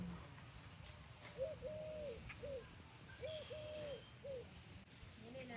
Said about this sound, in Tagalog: Bato-bato po siya guys.